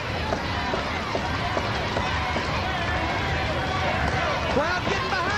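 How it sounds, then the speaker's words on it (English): A crowd cheering at a women's professional wrestling pay-per-view, a steady roar of arena noise and babble with shouts rising near the end, under loud commentary voices. "Crowd getting behind him."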